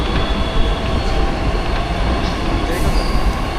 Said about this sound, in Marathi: गाईस मेट्रो आली.